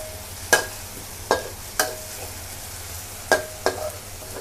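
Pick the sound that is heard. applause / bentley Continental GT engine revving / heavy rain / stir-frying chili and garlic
stir-frying chili and garlic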